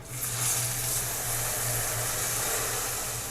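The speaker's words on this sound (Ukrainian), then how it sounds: "Виливаю сюди на часник гарячу олію та в останній раз все перемішую." Hot oil poured over garlic for Korean-style green tomatoes, a bright hissing sizzle that flares at the start and then settles into a steady fizz under a low background hum.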